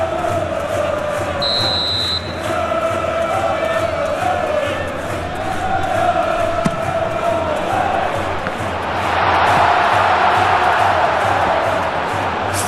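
Stadium crowd in the PES 21 football video game, a steady loud roar of cheering throughout that swells louder near the end, with a brief whistle-like tone early on.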